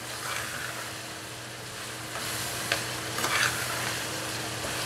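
Crushed black pepper stirred into a sizzling karahi, a steady frying hiss with a few scraping stirs near the end, no talking.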